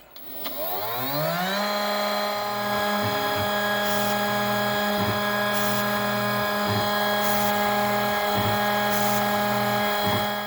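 Homemade CNC machine drilling holes in a PCB with a 0.9 mm bit at 12,000 RPM, feeding 300 mm per minute: a spindle whines up to a steady high tone, with a regular series of brief drilling plunges repeating every couple of seconds.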